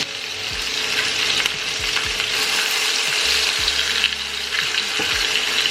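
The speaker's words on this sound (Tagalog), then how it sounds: "Itong balat guys, kukunin natin to. At saka i-fry." Chicken skin fries in a pot with a constant loud sizzle, while occasional scraping and knocking from stirring cut through close by.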